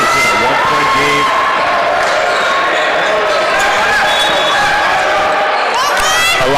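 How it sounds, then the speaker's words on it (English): Raucous crowd packed into a gym at a basketball game, a loud constant wall of cheering, whooping and shouting with whistle-like tones, ball bounces and voices mixed throughout. "A lot of noise, raucous crowd."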